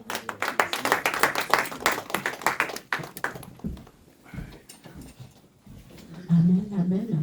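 Church congregation claps in quick rhythmic bursts for the first few seconds with voices calling out in acclamation, then the clapping fades and scattered voices and a low hum carry on.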